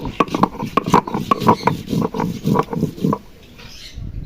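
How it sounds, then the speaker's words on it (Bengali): Dried red chillies ground by hand on a grinding stone, a steady rhythmic scraping and thudding of stone on stone, close and fairly loud, stopping near the end. "আমি শুকনা লঙ্কাটা বেটে নিচ্ছি"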